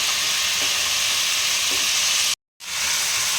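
A pumpkin and malabar spinach ghonto with chickpeas frying in a pan gives a constant loud sizzle, with a few soft stirring knocks under it and a brief dropout of silence near the end.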